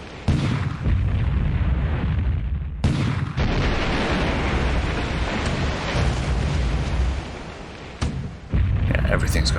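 Naval combat in a video game brings repeated booming artillery fire and explosions from ships bombarding an island, loud and dense with brief gaps between heavy bursts.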